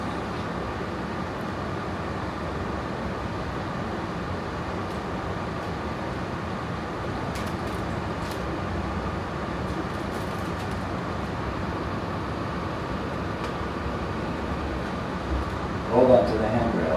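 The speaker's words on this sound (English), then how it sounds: "Train is departing to Southmont Station." Train pulling away from a platform toward Southmont Station, heard from inside the carriage as a steady, loud rolling rumble with a constant hiss. An announcer's voice plays over the running noise throughout.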